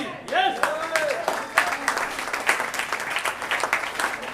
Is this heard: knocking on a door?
no